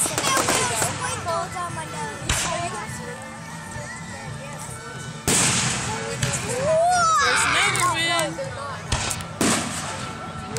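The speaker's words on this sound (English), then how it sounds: "Let the echo bounce off the fireworks there." Fireworks display over Lake Sara with loud bursts and booming reports echoing across the water, a crowd cheering and voices talking throughout.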